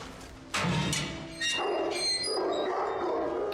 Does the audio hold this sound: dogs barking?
yes